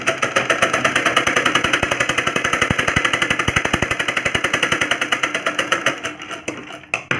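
A sewing machine runs in a fast, even chatter of closely spaced stitches as it sews a folded blouse hook strip, then slows and stops near the end.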